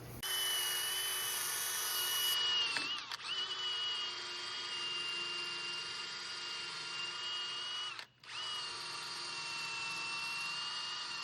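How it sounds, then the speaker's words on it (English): A cordless drill spins a wire wheel against the threads of a seized tie rod end on a 2013 Ford F-150, a steady loud whine and rasp running nearly continuously with two brief pauses. "a couple good wire wheels and a drill and a bunch of charged up batteries, and literally clean these threads the best that you can"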